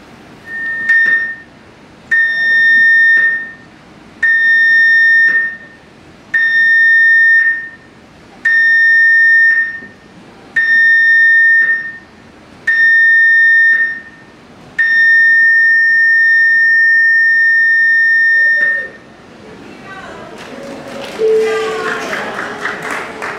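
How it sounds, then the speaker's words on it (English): Cruise ship general emergency alarm sounding over the PA system: seven short, evenly spaced electronic tones followed by one long sustained tone, loud and clear, then fading into background noise. "This alarm is 7 short tones, followed by 1 long tone over the PA system."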